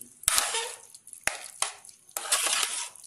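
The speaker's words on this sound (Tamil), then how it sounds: "இதை நல்லா மிக்ஸ் பண்ணி விட்டுக்கலாம்." Ven pongal being stirred and mixed in a pot after the tempering is added, giving soft scraping and clinking strokes in short bursts, fairly quiet and close.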